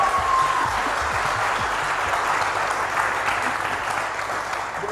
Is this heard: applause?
yes